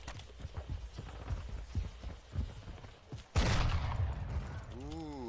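Gunfire in the video game Call of Duty: a run of rapid, punchy shots and thuds, then a loud sustained blast with a ringing tone trailing off, under faint background chatter.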